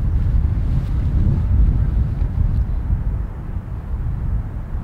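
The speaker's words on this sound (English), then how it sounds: "it's just really windy" Heavy wind buffeting the microphone outdoors on a golf course, a steady low rumbling roar that swells and eases throughout without any voices.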